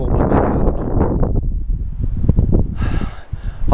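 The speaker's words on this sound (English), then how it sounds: "it's very windy" Strong wind buffets a microphone at an exposed mountain campsite on the Teton Crest Trail, a steady loud roar with rumbling gusts and rustling throughout.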